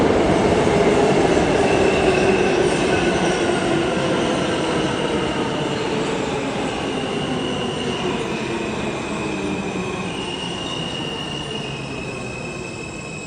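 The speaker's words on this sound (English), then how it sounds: "So that's why I'm in the subway right now." A New York City subway train rumbles continuously with squealing wheels and metallic screeching, loud and close, slowly easing off over time.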